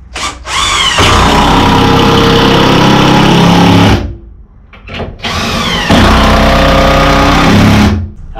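A power drill drives 3-inch torque screws into the gable of a dovetail log cabin, with two long loud whirring runs, each winding up and then stopping abruptly.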